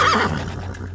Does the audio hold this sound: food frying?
no